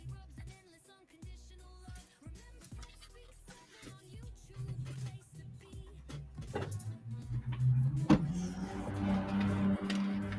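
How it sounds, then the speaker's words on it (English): Noisy car passing at a distance, a broadband roar that swells toward the end beneath a low hum, with no talk. "that was a noisy car"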